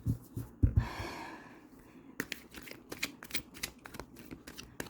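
Tarot cards being shuffled by hand, a quick riffling burst near the start followed by a run of crisp flicks and taps, close and fairly soft, with some breathy noise between.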